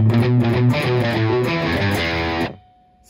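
A guitar riff from an album played at full tempo on a distorted electric guitar: a dense, driving run of picked and hammered notes that stops abruptly near the end, leaving brief quiet.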